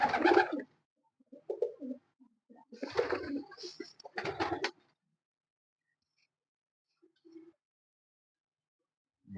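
Long-flying Pakistani pigeons cooing close by in several short, throaty bursts separated by quiet pauses, with a softer coo near the end.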